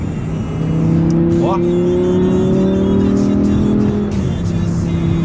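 An Audi R8 engine roars with a sustained, loud rev that holds steady through the clip, close by, with brief talk over it.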